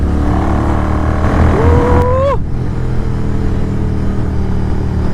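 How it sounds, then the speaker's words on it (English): A motorcycle's exhaust drones steadily while riding on a highway at night in monsoon rain, a loud continuous engine roar with wind rush, a rising rev note briefly sweeping up midway before settling back. "Just listen to the exhaust noise."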